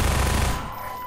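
Loud, close machine-gun fire in Half-Life 2, a dense rattling burst that cuts off quickly and leaves a fading tail.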